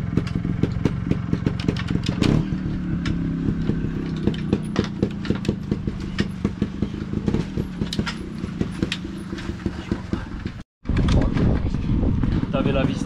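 A motorcycle engine idles close by after its idle and air screws have been adjusted, giving off a rough, uneven putter with clattery pulses. A voice talks over it, and there is a brief dropout near the end.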